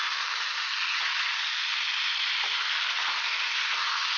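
Diced potatoes fry in a pan for a vegetarian curry, giving a steady, close broadband sizzle with a few soft stirring scrapes and no talk.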